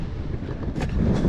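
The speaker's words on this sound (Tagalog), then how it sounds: "Medyo mahangin nga po pala ngayon." Steady wind buffets the microphone outdoors at a seafood catch-and-cook campfire site, a loud, continuous rumbling roar with a couple of stronger gusts and no talking.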